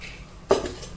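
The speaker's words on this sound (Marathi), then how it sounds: "गॅसवरती टोप ठेवलाय." A metal cooking pot is set down on a gas stove in a home kitchen, a single close metallic clunk with a short ring amid quiet background.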